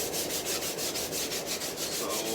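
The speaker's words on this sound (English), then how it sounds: "Take the 220 visuals and scrub where you put the glue on." Fine 220-grit sandpaper scrubs back and forth over a glued repair on a wooden cricket bat, making a steady, close, rhythmic rasping with even strokes and no talking.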